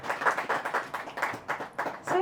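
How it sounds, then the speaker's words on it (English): Audience at a spoken word poetry headline set claps in a short, uneven burst of hand claps, close and moderately loud, with voices mixed in. "So give a round of applause."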